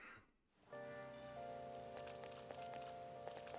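Steady rain in the video game Persona 5 Royal, a soft continuous patter that fades in after a brief quiet moment, with sustained tonal music layered over it.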